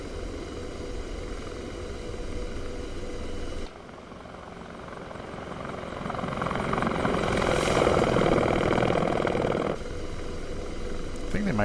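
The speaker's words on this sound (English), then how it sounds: "I think they might have changed the sound of the helicopter as well." Helicopter rotor and turbine roar in the DCS flight simulator, a steady loud whine and chop that dips briefly, then swells as the aircraft dives at low level.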